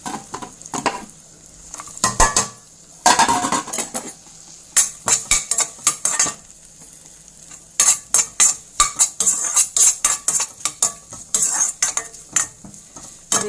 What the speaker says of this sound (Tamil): இப்போ நம்ம இது கூட தேங்காய் கொஞ்சம் போட்டுக்கலாம். தேங்காய் போட்டு நல்லா ரோஸ்ட் ஆகட்டும்